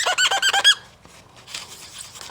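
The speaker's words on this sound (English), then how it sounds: "The squeak of cleanliness." Rag rubbing on a Stratocaster guitar body finish cleaned with lighter fluid gives a quick series of high, rhythmic squeaks, about six in a row, then softer rubbing follows.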